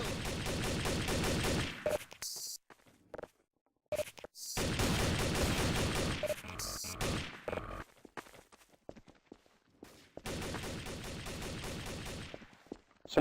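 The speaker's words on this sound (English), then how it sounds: "Whoa, who's shooting?" Rapid automatic gunfire from an M16 in a Garry's Mod Trouble in Terrorist Town match, coming in loud sustained bursts separated by short silent gaps.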